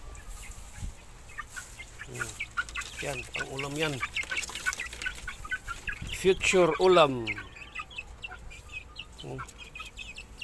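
Chickens cluck and squawk close by in bursts, with someone talking over them throughout.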